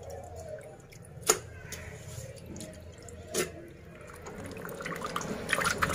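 Water drips and splashes in a sink while rohu fish is being washed, two distinct drops standing out over a soft running trickle that grows busier toward the end, close and fairly quiet.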